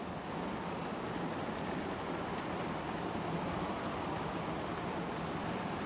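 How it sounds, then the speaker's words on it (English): Heavy rain pours steadily outside a lab, a dense, unbroken hiss of drops hammering surfaces at constant loudness throughout, with no voices. "It's pretty cozy in the lab when it's raining hard,"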